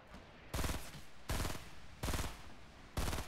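Automatic gunfire in Fortnite comes in four short, loud bursts of rapid shots, spaced fairly evenly less than a second apart, with quiet game ambience between them and no talking.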